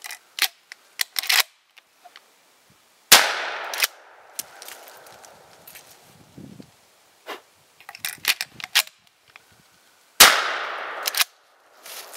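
A .410 shotgun fires at a pumpkin outdoors: two sharp, loud shots roughly seven seconds apart, with scattered clicks and small knocks between them.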